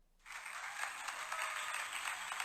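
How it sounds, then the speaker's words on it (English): A round of applause starting abruptly and holding as a steady, even wash of clapping with no voices, fairly faint. "This round of applause, Aries, is for you."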